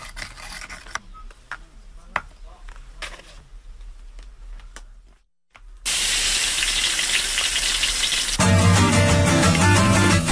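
Ground spice paste stir-fried in a little oil, a steady loud sizzle and scraping hiss, with quieter clattering and rubbing before it swells into continuous frying noise.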